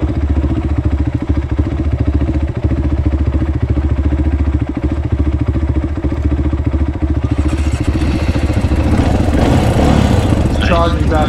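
A Honda CRF250X dirt bike engine runs with a loud, steady low throbbing putter close by, roughening and rising toward the end, as people talk over it.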